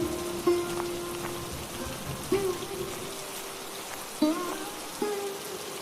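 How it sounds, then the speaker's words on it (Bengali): Steady rain patters on a surface, a continuous soft hiss with occasional louder drips and a few faint tonal sounds in the background. "কি গো বৃষ্টি তো কমছেই না দেখছি"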